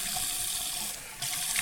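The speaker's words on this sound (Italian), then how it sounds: "Mi sciacquo un attimo il viso" Steady rush of tap water at a bathroom sink while someone rinses their face before shaving, close and continuous, with a brief dip in the flow midway before it resumes.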